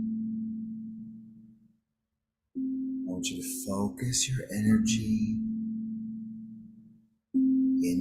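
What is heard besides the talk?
meditation tones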